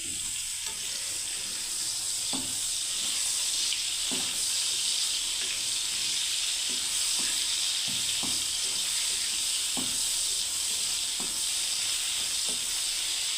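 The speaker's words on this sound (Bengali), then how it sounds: "এদিকে বন্ধুরা দেখুন বেগুনটা ভাজা হচ্ছে।" Eggplant fries in a pan for a Bengali eggplant curry. A steady, close sizzle and hiss keeps going throughout, with faint scrapes and pops. No one speaks.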